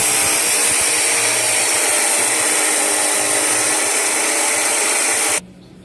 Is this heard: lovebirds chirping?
no